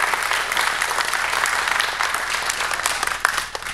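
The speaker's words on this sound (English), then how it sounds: "You clap for military spouses" Sustained applause from an audience honoring military spouses at a talk on flying the B-1B Lancer, steady dense clapping throughout with faint voices mixed in.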